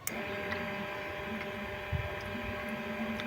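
A steady electric motor hum with a faint whine runs continuously at low volume, with a few small clicks and soft knock partway through, from an electric water pump from a Gazelle fitted to a Shifeng, water gurgling.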